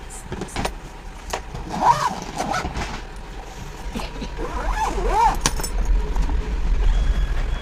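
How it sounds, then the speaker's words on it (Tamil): An Accsys India trolley bag rolls along on its wheels, making a continuous low rumble with a few brief squeaks and clicks, fairly close and loud for the whole stretch. "வீல் வந்து அவ்வளோ அழகாக ஸ்மூத்தாக போகுது"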